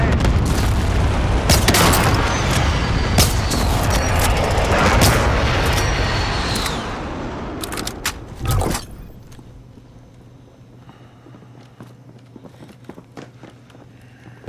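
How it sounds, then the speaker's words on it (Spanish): Precision airstrike explosions in a video game battle: a long, loud roar of heavy booms and blasts for several seconds, then fading to quieter rumble and scattered sounds. "Be advised, friendly precision airstrike inbound."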